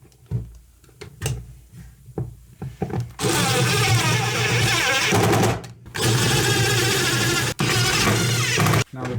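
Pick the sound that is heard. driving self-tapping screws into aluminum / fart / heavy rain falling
driving self-tapping screws into aluminum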